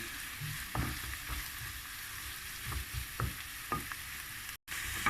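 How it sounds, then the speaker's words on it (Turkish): Mushrooms and onions frying in a pan, with a steady close sizzle and occasional stirring scrapes, no voices. "Mantarlarımızın suyunu çekmek üzere. Biraz muşlarımız da iyice kavruluyor."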